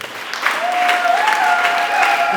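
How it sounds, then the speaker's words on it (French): Church congregation applauding a married couple at a ceremony, steady dense clapping that swells after a quiet start and holds at a constant level, with faint cheering or a whistle-like tone running through it. "Est-ce qu'on peut acclamer pour eux?"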